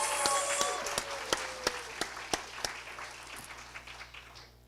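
Applause from the audience at the UCLA Master of Social Science commencement ceremony for 2024 graduates, a fairly quiet scattered patter with a few sharp individual claps, fading over a few seconds.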